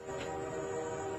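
A train approaches along railway tracks, a steady rumbling roar with a sustained tonal hum running throughout, fairly close and continuous for a brief moment without voices.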